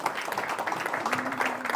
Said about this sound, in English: Let's do a round of applause really quick for these amazing women.